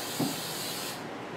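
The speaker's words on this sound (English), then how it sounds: "So we're just gonna spray this. Spray the back of the cabinet." 3M Super 77 spray glue hisses out of the can onto the back of a wooden cabinet in one steady burst that stops abruptly near the end.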